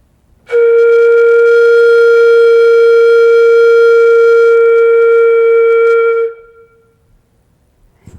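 A single steady, pure whistling tone blown on a flute head joint sounds loudly for about six seconds, then cuts off into quiet.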